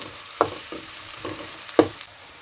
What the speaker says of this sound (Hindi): प्याज को इस तरह से धीरे धीरे फ्राई करना है